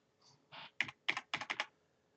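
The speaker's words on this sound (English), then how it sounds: "You got to use the number pad on your keyboard." Keys pressed on a computer keyboard's number pad to enter an alt code, heard as a soft press followed by a quick series of crisp, close clicks in small bursts, with no talking.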